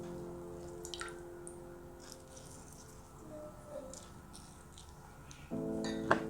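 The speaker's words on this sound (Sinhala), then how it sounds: "මේ විදිහට දෙහි උෂ ටිකක් එකතු කරගන්න." Lime juice poured into a homemade hand sanitizer mixture, giving soft, faint drips and small splashes against a low steady background hum, with no talking.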